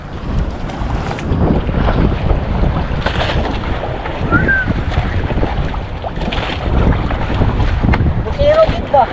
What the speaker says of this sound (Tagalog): Mga alon mga soyo, lalaki ng alon.